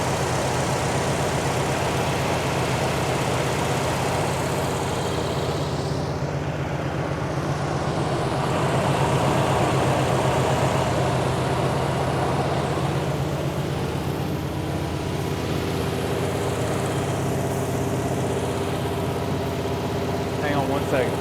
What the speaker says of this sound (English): Idling up by itself.